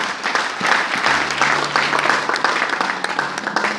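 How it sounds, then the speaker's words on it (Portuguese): Church congregation applauding loudly and steadily to praise Jesus, dense clapping from many hands throughout with a low hum beneath. "Aclama, aplauda Jesus."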